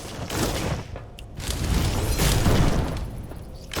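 Enemy gunfire aimed at the player in the sci-fi game Dolmen, a dense burst of shots and booming impacts rolling continuously, loud and close, with no voices over it.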